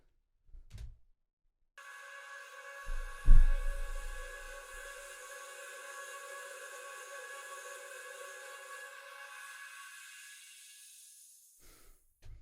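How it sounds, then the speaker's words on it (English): Eerie, drawn-out vocal effect made from a female singer's voice time-stretched and pitched up high, a sustained airy shimmering tone holding for about nine seconds after a low thump, then fading away, with no talking. "I just grabbed Veronica's vocal, and I just time stretched it and pitched it up a lot"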